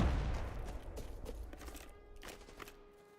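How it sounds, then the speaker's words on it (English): An AK rifle fires in a video game: a loud opening crack, then a scattered volley of sharper shots that thins out and fades toward the end. No one speaks. "that was an AK shooting"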